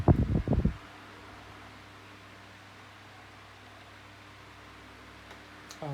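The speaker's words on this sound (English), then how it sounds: "Oh, that airflow is lovely" A 1990s Briticent CED 12-inch desk fan runs with a steady, soft airflow whoosh and a low hum, continuous and fairly close; a brief loud knock sounds at the start.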